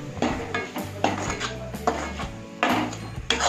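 A spoon stirs spices such as coriander powder and Kashmiri red chilli into jackfruit masala in a metal pot, giving repeated close scraping and clinking strokes in a steady rhythm, with no talking.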